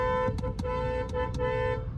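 A car horn sounds in several short bursts over the steady drone of a running vehicle, close and loud.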